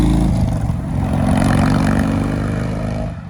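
A motorcycle rides right alongside on Morena Boulevard in San Diego, its engine loud and close with a steady revving drone that fades slightly at the end.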